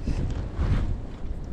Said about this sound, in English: that wind is nuts.